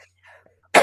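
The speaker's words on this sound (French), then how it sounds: "Je vais tousser pendant ce temps-là." A woman lying in bed gives a single short, breathy cough close to the microphone at the very end, after a near-silent pause.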